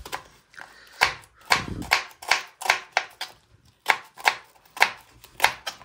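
An onion is chopped with a knife on a board for desi malai momos, a quick run of about a dozen crisp, evenly spaced strikes, close and loud with no talking.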